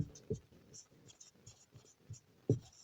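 Pen writing on paper while a math problem is being worked, giving soft scratchy strokes and taps in short irregular bursts, faint and close, with quiet speech between them.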